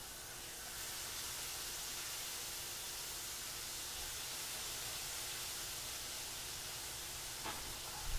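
Meat fries in a pan with a steady, faint hiss and sizzle that holds evenly, with a small clatter near the end and no one talking.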